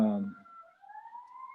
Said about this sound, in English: if you hear a siren, that means there's a siren truck going by